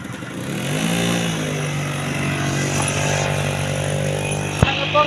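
A motorcycle engine idles and revs gently during a learner's riding class in Madurai, the note rising and holding steady close by, with a sharp click near the end.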